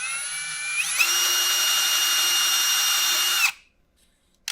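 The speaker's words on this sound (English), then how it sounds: "now I can press directly into the filter when I'm drilling these holes" Power drill boring holes in a carbon air filter for a 3D printer enclosure, a close, loud steady whine lasting under three seconds that stops abruptly, followed by near silence and a brief knock.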